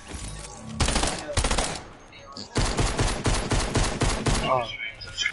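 Rapid pistol fire in a Call of Duty zombies mode, loud close bursts of sharp repeated shots in two volleys with a short gap between them and no talking over them.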